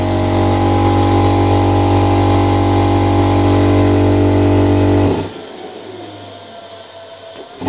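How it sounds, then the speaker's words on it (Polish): An air compressor running from a UPS4000 inverter in a camper setup, a loud steady motor drone with strong low hum for about five seconds, then abruptly cutting off to a quiet background. "A czy uruchomi kompresor?"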